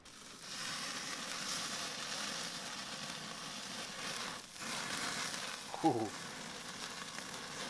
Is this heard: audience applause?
no